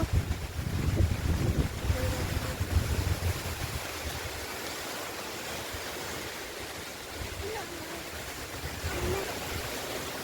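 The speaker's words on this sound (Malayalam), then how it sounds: "മഴയില്ലായിരുന്നു കാറ്റ് മാത്രമാണ്" Strong wind blows outdoors without rain, a rough, rumbling roar buffeting hardest in the first few seconds before settling into a steadier rush with occasional gusts.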